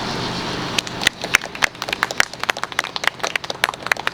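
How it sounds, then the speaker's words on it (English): Scattered, uneven clapping from a small press conference audience, with sharp individual claps gradually picking up into a thin, patchy round of applause close by. "Let's give Megan a big round of applause"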